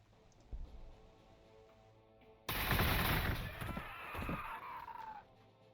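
Weapons fire in the strategy video game Warhammer 40,000: Gladius, with a quiet stretch before a sudden loud burst of rapid shots and impacts that rings on for a few seconds before cutting off.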